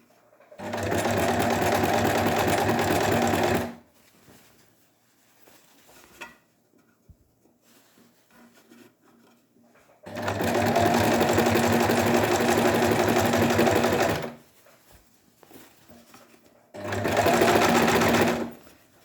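A sewing machine stitching a bias bound neckline runs in three sustained bursts of fast, even whirring, separated by quiet pauses with faint handling sounds.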